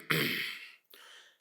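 A man clears his throat twice up close, a long rasping rumble followed after a brief pause by a shorter, softer one, with no talking around it.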